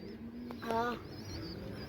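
Pet pigeons give a single short, throaty coo over a steady background hiss, faint and close by.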